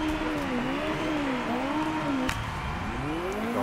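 A Ligier GT race car engine in the racing game Hot Lap Racing drones steadily, its pitch rising and falling in smooth waves as it revs, with one brief click partway through.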